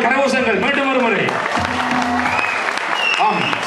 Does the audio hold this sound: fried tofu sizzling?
no